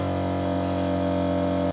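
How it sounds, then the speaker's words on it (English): A self-priming water pump in a self-built camper van runs with a steady, loud droning hum that holds evenly before cutting off abruptly. "the pump kicks on. And it sounds like this."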